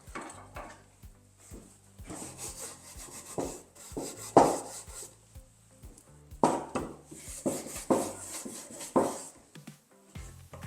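Stiff bristles scrub and rasp across an oiled wooden food-storage box in repeated short strokes, clearing oil from grooves, close up, with occasional light knocks between bursts.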